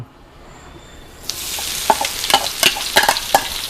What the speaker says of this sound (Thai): ขั้นตอนนี้ใช้ไฟอ่อน เจียวจนกว่ากระเทียมจะเหลืองกรอบ